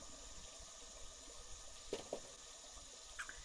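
A running water tap in the Phasmophobia video game trickles faintly and steadily, like a distant babbling stream, with a few soft knocks and thuds over quiet background hiss.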